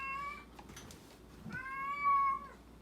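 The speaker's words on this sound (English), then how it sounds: "Hang on, I'm sorry, that's the cat." A cat meows twice nearby, a short call followed by a longer drawn-out one, over a quiet room.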